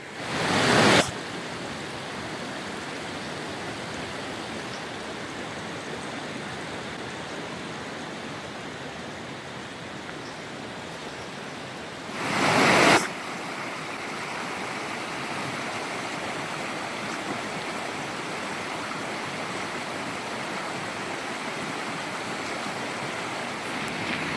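A creek flowing through woods in Montana, a steady broadband rush of running water continuing throughout, with two brief louder bursts near the start and around the middle.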